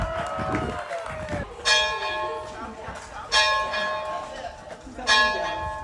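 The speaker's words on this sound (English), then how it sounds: "We are hoping that he can ring the bell today." Historic bell of the 1896 Sanibel schoolhouse ringing three loud, spaced strokes, each clang decaying with a long metallic hum, with brief outdoor voices and crowd sounds at the start.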